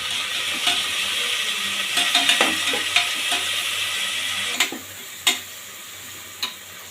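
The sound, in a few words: onions and tomatoes sautéing with salt in a pan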